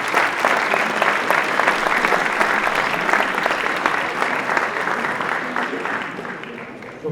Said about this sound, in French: je vous demandais, voilà, d'applaudir gentiment cette journée,